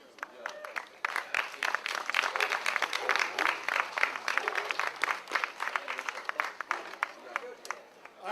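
An outdoor Labor Day picnic crowd applauds a singer, a lively, moderately distant patter of many hands rising and holding for several seconds, with chatter mixed underneath.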